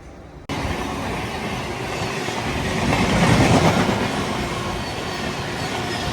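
A Shalimar to Cherlapalli train rolls past near Madhira, a continuous heavy rumble with clattering wheels that swells louder midway and then holds steady.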